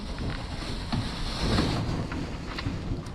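A boat motor runs steadily under heavy wind buffeting and water noise, a low continuous rumble heard close on board with no talk.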